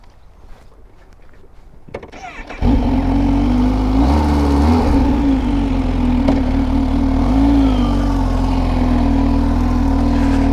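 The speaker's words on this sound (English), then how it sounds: "let's jump on the ZH2 and let's go for a ride" A Kawasaki ZH2 motorcycle engine starts after a few seconds of quiet rustling, then settles into a loud, steady, close-up engine drone with slight shifts in pitch as the ride begins.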